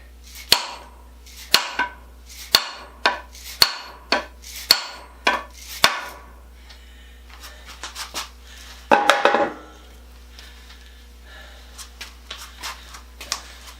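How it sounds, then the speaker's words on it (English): A dead blow hammer drives a wooden handle into a sledgehammer head: sharp, evenly spaced blows, about eight in a row, followed by scattered lighter knocks and a brief clatter. "To drive the handle into the head, you hold on to the handle up here near the butt end."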